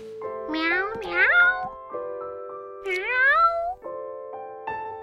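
A voice playfully imitates a cat, giving several drawn-out, rising and falling meows in a row, close and clear.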